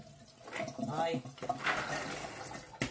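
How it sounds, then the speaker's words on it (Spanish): Hot water pours steadily into a pot of chickpeas for a cocido stew, a close, continuous splashing rush with a faint voice in the background. "al garbanzo, pues se le puede echar agua caliente, pues le echamos agua caliente"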